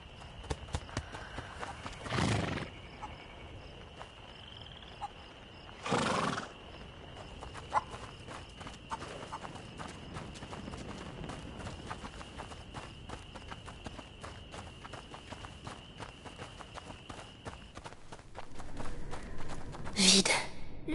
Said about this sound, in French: Le cheval.